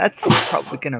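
A single sharp sneeze bursting out mid-sentence during a tabletop role-playing game session, with a person speaking immediately around it.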